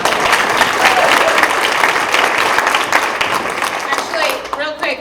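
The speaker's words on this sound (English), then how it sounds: "Can we have a round of applause for that?" A crowd at a Democratic candidate forum in South Dayton, Ohio, gives a loud, dense round of clapping that thins out toward the end, with a few voices briefly audible.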